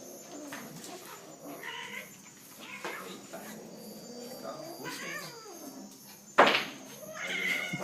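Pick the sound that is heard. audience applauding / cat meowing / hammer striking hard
cat meowing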